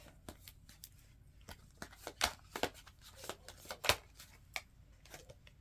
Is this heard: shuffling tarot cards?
yes